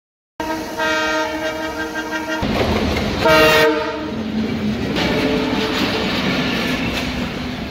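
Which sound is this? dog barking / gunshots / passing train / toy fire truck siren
passing train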